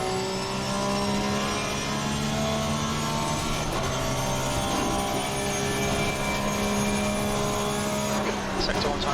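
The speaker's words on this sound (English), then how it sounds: "As I hit the rev limiter" Porsche 911 GT3 engine in Assetto Corsa Competizione, a steady high-pitched whine held at the rev limiter, loud and constant throughout, with a brief change in tone partway through.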